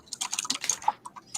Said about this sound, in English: Bourbon, quit fucking typing, you jerk.